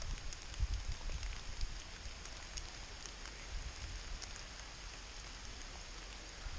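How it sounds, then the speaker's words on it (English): Steady rain patters through tree leaves on a hike at Devils Lake, a soft continuous hiss with scattered drips, no voices. "you can hear the rain coming through the leaves in the trees"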